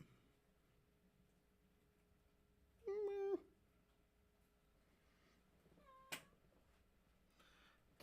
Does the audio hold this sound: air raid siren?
no